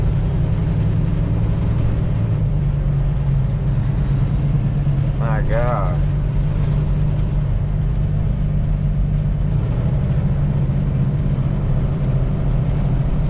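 A truck engine drones steadily with low rumble while driving through bitter polar-vortex cold, continuous and close inside the cab, with a brief exclamation from a man partway through.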